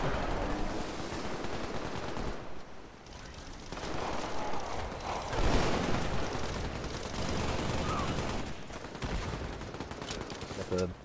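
Sustained automatic gunfire from a silenced SMG in Halo 3 multiplayer, a steady muffled rattle running almost the whole time with brief dips between bursts, mid-level and continuous.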